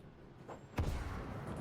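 A drone firing in the video game STALKER 2 gives one sudden, moderately faint thudding shot with a low boom, breaking a quiet background hum and trailing off into a soft rumble.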